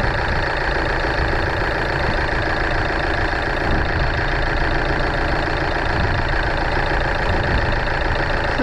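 A Toyota engine idles steadily just after replacement of a faulty SCV valve, a continuous even running hum with no surging, heard up close and without talk throughout.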